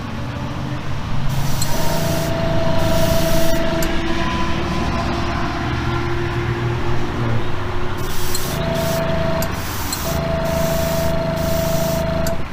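Steady hiss of an airbrush spraying Createx paint onto a Hot Wheels Bone Shaker model car in on-and-off bursts, with a compressor humming underneath throughout.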